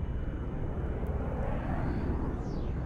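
Fighter aircraft scrambling in XCOM Enemy Within give a broad, steady jet roar with a faint whistling sweep near the end, loud and unbroken throughout.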